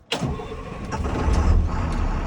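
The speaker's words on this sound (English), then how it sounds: "I'm going to start the engine back up" A school bus engine cranks and catches, then settles into a loud, steady diesel idle that stays close and fills the rest of the moment without any talking.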